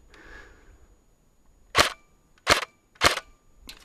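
A G&G L85 airsoft rifle fires three sharp, loud single shots at targets outdoors about 100 feet away, spaced under a second apart after a quiet pause.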